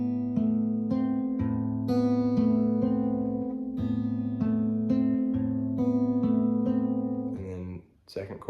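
Acoustic guitar fingerpicks a chord pattern in a steady, rolling arpeggio of bright plucked notes, played close and clear, ending in a short burst of handling noise.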